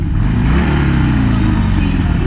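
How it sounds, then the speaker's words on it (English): A 2020 Harley-Davidson Iron Sportster 1200 V-twin idles with a loud, steady, lumpy exhaust note and gets a few light revs, close by and continuous throughout. "Do a little bit of revs."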